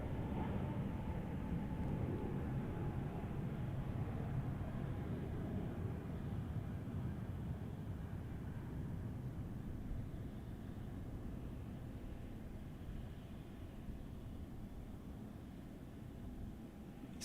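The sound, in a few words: Spirit airliner with Pratt & Whitney engines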